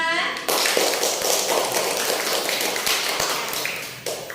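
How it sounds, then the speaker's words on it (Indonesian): A class of students clapping together for a few seconds, a dense burst of applause that fades out near the end. "tepuk tangan untuk kita semua"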